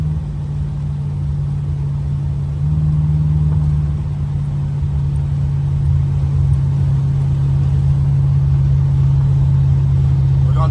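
A 1986 Buick Regal with a big block engine and Holley EFI holds a steady, loud low rumble, rising slightly in pitch partway through as it pulls at about quarter throttle, with no talking.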